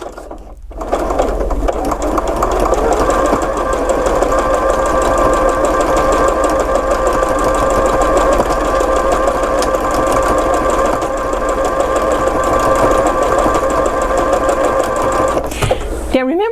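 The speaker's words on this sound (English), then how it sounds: "So now let's stitch this down." Sewing machine stitching ribbon onto a notebook cover at a reduced top speed, a loud continuous whirring drone that runs steadily for most of the clip before stopping near the end.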